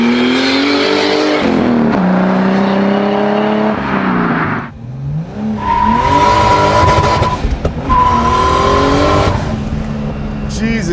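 A BMW 2002 Turbo with an E30 engine swap, running a turbo tune with the boost turned down, accelerates hard: a loud, rising engine roar climbs through several gear changes, with a brief drop between pulls and voices nearby.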